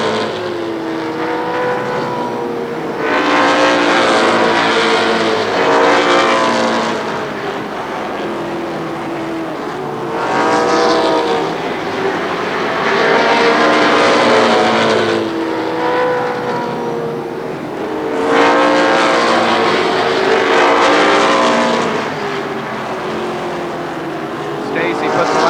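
NAMARS midget race cars at Columbus Motor Speedway, loud engines roaring past in repeated waves as the pack circles the track, rising and fading every few seconds, with a commentator talking throughout.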